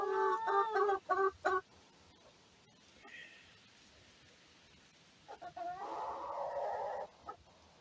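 Chickens cluck and call in short bursts up close, then a quiet stretch before another run of loud, busy clucking.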